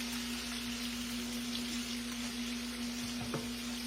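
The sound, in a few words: green tomatoes frying in a pan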